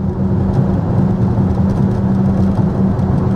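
Steady road and tire roar inside a 2025 BMW XM driving on a rough road surface, a continuous low rumble with a faint engine hum, no voices present.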